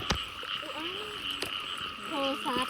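Several frogs croak in short, repeated calls during a rainy-night frog hunt, close and fairly loud over a steady background of insect or frog chorus, with no talking.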